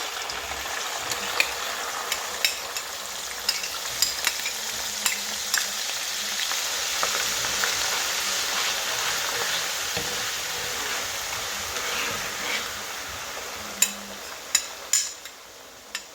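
Steady, loud sizzling of garlic frying in hot oil for chili oil, with a few sharp pops and crackles toward the end.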